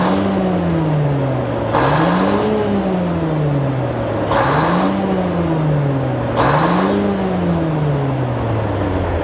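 Car engine, reportedly with a turbo that isn't spinning, revved repeatedly in close range: three rising and falling rev cycles with a throaty exhaust and a whooshing surge at each peak, no talking.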